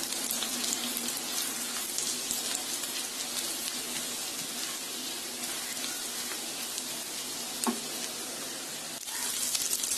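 Chopped garlic and ginger frying in hot ghee in a pan, giving a dense, even crackling sizzle that runs close and steady throughout, with a few brief clicks.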